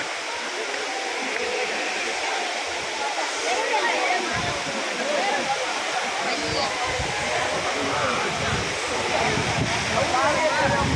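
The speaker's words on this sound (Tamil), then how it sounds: "அருவியும் நெருங்கியாச்சு." A steady, dense roar of the Aagaya Gangai waterfall in the Kolli Hills fills the whole stretch, loud and continuous, with a few faint voices underneath.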